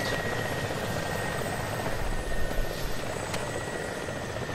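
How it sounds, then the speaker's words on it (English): A helicopter in a video game firing rockets and tracers, heard as a continuous dense rotor and engine roar with a bright hiss and a brief sharp burst near the end, no talk. "there's a helicopter firing rockets and tracers"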